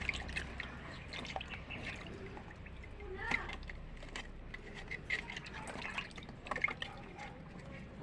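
Shellfish washed in water: quiet dripping, trickling and light splashing close by, with a few soft clinks, and a voice talking faintly in between.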